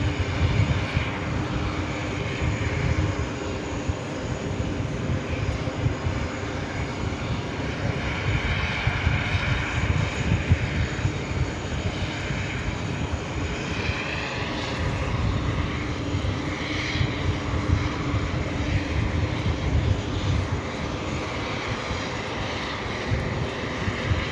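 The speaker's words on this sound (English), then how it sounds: "Emirates A380 Super up next for takeoff. Already rolling down to 1-3 right." An Emirates Airbus A380 rolls down runway 13 Right at New York JFK for takeoff, its jet engines giving a loud, dense, steady roar that stays strong and unbroken throughout.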